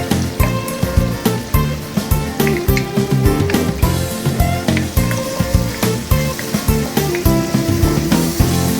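Mashed tomatoes sizzle and crackle loudly in a hot pan while being stirred for a Filipino caldereta, menudo and afritada stew, a steady dense frying hiss with irregular spatter pops throughout.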